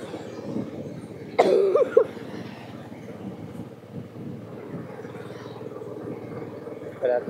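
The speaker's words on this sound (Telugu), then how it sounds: "మా వాడికి దగ్గు వస్తుంది." A boy riding in a moving vehicle gives a short burst of coughs, then one more brief cough near the end, over a constant low rumble of road and wind noise.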